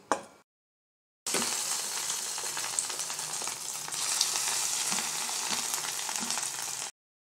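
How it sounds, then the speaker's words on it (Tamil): Marinated cauliflower deep frying in hot oil: a short knock, a moment of silence, then a loud, steady bubbling sizzle that lasts several seconds before stopping abruptly. "நல்லா ஊறிட்டு இப்போ வந்து எண்ணெயில் வந்து இதை பொரிச்சிடலாம்."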